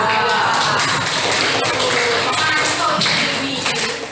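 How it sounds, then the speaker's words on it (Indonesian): Classroom students clapping for a class group, a dense scattered patter of hands under some background voices, moderately loud and continuing throughout. "tepuk tangan untuk kelompok berapa?"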